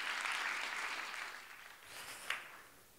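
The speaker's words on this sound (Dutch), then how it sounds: "Graag een groot applaus voor onze tweede spreker, Jan Terminiaw." Audience applause for a second speaker at a design talk tied to Delhi Fashion Week, a dense wash of clapping that fades gradually over a few seconds, with one sharper clap standing out near the end.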